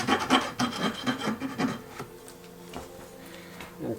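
A metal file rasps the burr off the back edge of a solarplate printmaking plate, a run of short, close scraping strokes in quick rhythm that stop halfway, leaving a quiet room.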